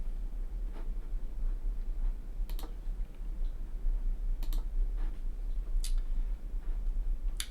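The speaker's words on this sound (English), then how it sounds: "So I'll go into my Google Doc, and what I'm going to do is type in Wren et al." Someone typing on a computer keyboard into a Google Doc, with sparse, quiet keystrokes coming in small irregular clusters over a low steady hum.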